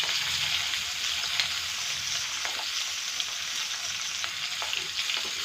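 Papaya and cauliflower sautéing in a pan, a steady hissing sizzle with faint stirring scrapes, continuous and fairly close, no talking.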